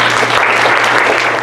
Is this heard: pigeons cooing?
no